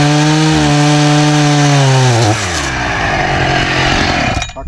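A chainsaw bites through wood while cutting fence bracing, its loud engine whine dropping in pitch under load and then tailing off as the cut finishes.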